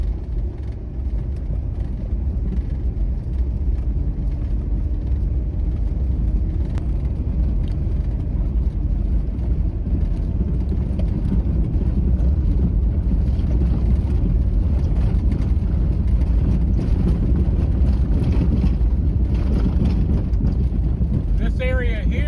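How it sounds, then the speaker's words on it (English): Steady, loud road noise and broadband rumble fills the cabin of a vehicle driving off-road on a rough dirt road, continuous and unchanging throughout, with a buffeting wind-like roar and no clear speech. "you definitely get a lot of road noise"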